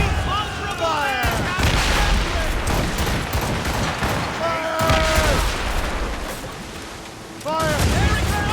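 Ship cannons blasting in a naval battle in the 2014 game Assassin's Creed Rogue, heavy booms sounding repeatedly through about eight seconds amid constant battle noise, while crew voices shout over them.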